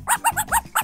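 Five quick, bright barks or yips from a dog in rapid succession, close and clear, with nothing else heard.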